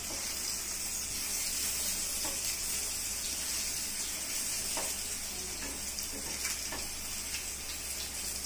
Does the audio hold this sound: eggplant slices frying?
yes